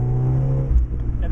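A 1994 Mazda Miata's engine hums steadily close up, then drops in pitch as it shifts gears partway through, with a short whoosh around the change.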